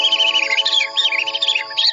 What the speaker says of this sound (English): A bird that only comes out at night. The lesser striped sunflower warbler.